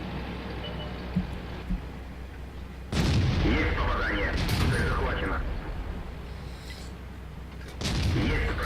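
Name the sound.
KV-1S tank gun firing in the tank video game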